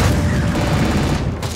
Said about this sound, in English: The Gatling cannon works a little differently.